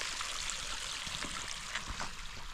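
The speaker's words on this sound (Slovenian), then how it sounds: "teče potok." A forest stream swollen after rain rushes and gurgles steadily nearby, a constant bright watery hiss with small splashes and low burbles throughout.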